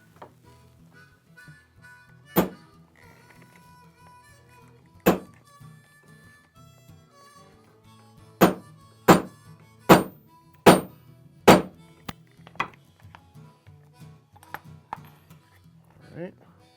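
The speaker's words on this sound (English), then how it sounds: "we'll just go ahead and hammer that home" A hammer strikes a rivet setter to set double cap rivets on a small anvil for a leather axe mask, sharp metallic taps, spaced at first, then a quick run of hard blows, close and loud with light handling sounds between.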